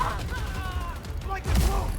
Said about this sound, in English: The tactical missile. Fire! Crack!